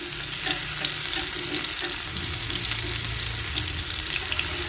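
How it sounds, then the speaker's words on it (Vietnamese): Mushrooms sautéing in a pan for a vegetarian braised tofu dish, a loud steady sizzle with occasional stirring scrapes, close up and with no talking. "Tiếp theo mình sẽ xào sơ cái phần nấm gơm của mình."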